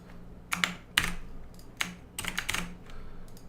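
Computer keyboard keys pressed for copy, find and paste shortcuts, a few quick clustered clicks in short irregular bursts, close and fairly quiet with no speech.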